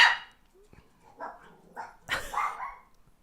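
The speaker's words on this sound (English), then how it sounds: "Please ignore my dog barking." A dog barks several times at close range indoors, a sharp opening yelp followed by a run of irregular barks of varying strength.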